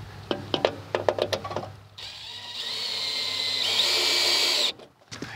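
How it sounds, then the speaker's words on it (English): A power drill sinks a pilot hole for a screw while a new breaker box is fitted in a Victorian house. A run of short clicks and knocks comes first, then a steady high whine from the motor for about three seconds before it stops. "I'm going to go ahead and sink in a pilot hole."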